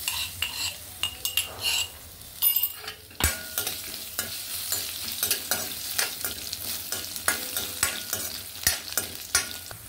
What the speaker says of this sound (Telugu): వెల్లుల్లిపాయలు వేస్తున్నాను.